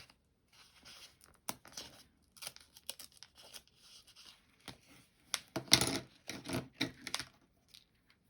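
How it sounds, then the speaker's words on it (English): A gyro cut craft knife scrapes and slices through sticker paper in uneven, choppy scratching bursts, growing louder and denser toward the end, with quiet gaps between strokes. "I feel like I'm very choppy when I use this gyro cut"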